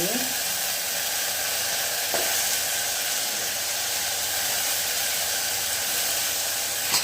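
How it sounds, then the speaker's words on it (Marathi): Potatoes added to a hot pan with chopped tomato give off a steady, even sizzle and hiss that carries on unbroken, with no talking. "आता ह्यामध्ये मी टाकत आहे हे बटाटे"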